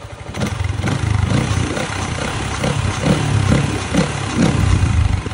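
A Yamaha Y15 motorcycle engine idles nearby with a steady, throbbing putter and slight rhythmic pulses, loud and alone.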